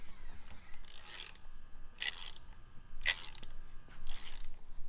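A wrench torques a crankshaft balancer bolt in four separate, evenly spaced bursts of ratcheting clicks over a quiet, steady background.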